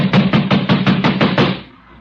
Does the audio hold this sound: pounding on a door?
yes